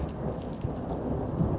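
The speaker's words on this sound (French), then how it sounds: "j'ai mis des bruits de pluie au début" Steady rain ambience with thunder rumbling low underneath, a continuous stormy wash from a school sound library, used as background atmosphere for a 3D animated short made in Blender.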